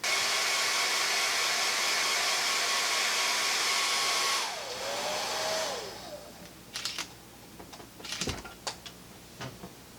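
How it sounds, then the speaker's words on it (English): A hair dryer blows loudly and steadily up close for several seconds, then its whine drops and winds down as it switches off, followed by scattered clicks and handling knocks in a quiet room. "If you use a hairdryer just to dry it dries a lot faster"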